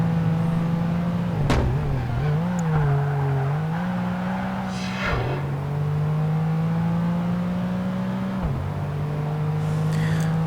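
A race car engine in Project Gotham Racing 2 holds a loud, steady drone while driving across a large city square at night, with the pitch dipping briefly and recovering at several gear shifts and turns.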